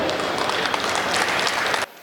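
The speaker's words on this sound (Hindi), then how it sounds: "तालियां बजाइए।" Audience applause at a Hindi kavi sammelan poetry gathering, a dense steady wash of clapping from a large crowd that holds for nearly two seconds and then cuts off abruptly.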